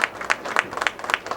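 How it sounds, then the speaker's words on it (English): A studio audience at a televised bowling competition gives a short burst of applause, a quick spread of individual claps close to the microphones. "And a fine round of applause for Paul, who's been a winner many more time"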